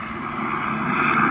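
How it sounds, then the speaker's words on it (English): A steady, droning aircraft engine hums loudly and continuously, like a helicopter passing nearby, with a faint rhythmic pulse underneath. "Helicopter."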